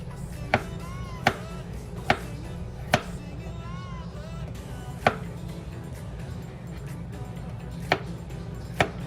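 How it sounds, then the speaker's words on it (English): A large kitchen knife chops garlic on a cutting board, single sharp knocks spaced irregularly about a second apart, faint under a low background hum, with no talking. "Be sure not to cut your fingers because the garlic is small. Or you can just use a smaller knife."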